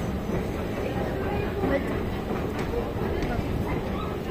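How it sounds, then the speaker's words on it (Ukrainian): Vienna metro train ride heard from inside the carriage, a steady loud rumble and roar of the moving train throughout, with faint voices mixed in. "от ми вже катались в метро в Австрії"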